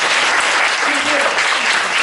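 Steady applause from a concert audience at an Amis music performance fills the room, with a person talking over the clapping.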